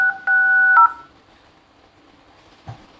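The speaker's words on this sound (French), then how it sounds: "Je vais vous faire écouter le son du téléphone." Two short telephone keypad tones beep in quick succession, followed by quiet and a faint click near the end.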